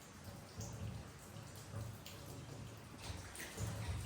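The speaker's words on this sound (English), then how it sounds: "It's just pouring down the chimney" Steady patter of rainwater pouring down inside a chimney during a heavy downpour, with scattered drips and splashes under a continuous wet hiss at a fairly low level.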